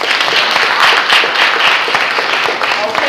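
A crowd at a Juneteenth celebration of the 13th Amendment breaks into loud, sustained applause, many hands clapping in a dense, continuous wash with some voices mixed in.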